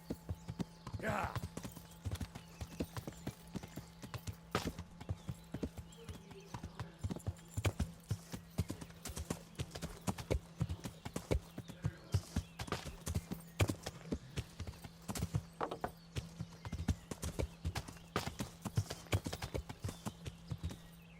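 Horse hooves clip-clop steadily in Kingdom Come Deliverance as a mount picks its way uphill through brush, a quiet, even walking rhythm of hoofbeats over a low background hum.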